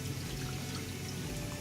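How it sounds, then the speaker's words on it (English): Water pours steadily while a shaving brush is rinsed of soap, a close, continuous splashing hiss with no voices. "you're going to go ahead and rinse it off."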